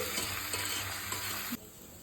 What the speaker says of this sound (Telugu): ముక్కలకి మంచిగా కారము ఉప్పు పట్టే వరకు కొంచెంసేపు వేయించుకోవాలి